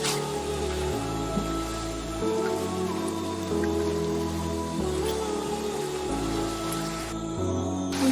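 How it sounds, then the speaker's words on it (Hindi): Beef keema fries lightly in a pan with a constant, rain-like sizzle, moderately quiet and even, while low music plays underneath. "थोड़ा सा इसे इसी तरह फ्राई करूंगी हल्का सा।"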